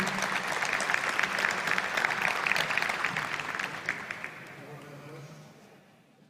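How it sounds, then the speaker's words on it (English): A conference audience claps steadily and enthusiastically, the applause holding for several seconds before gradually thinning and fading out. "Let's have another round of applause for Sohan as he leaves."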